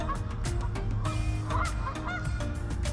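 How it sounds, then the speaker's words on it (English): Waterfowl on a pond in a Boston park, several birds honking and quacking in short repeated calls against a steady outdoor background, fairly close and with no talking. "See the little guys out there? Those are the ducks."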